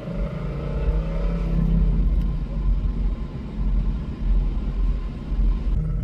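A silver Ford Mustang GT driving on a race track, a steady low engine rumble, moderately close, rising and easing slightly with no talk over it.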